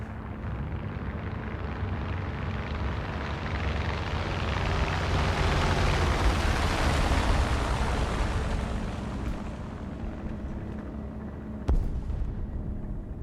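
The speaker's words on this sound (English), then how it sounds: "Yeah, that's a biplane." A biplane engine roars in the War Thunder video game as a dense, loud, continuous drone that swells toward the middle and then eases off, with one sharp thump near the end and no talking.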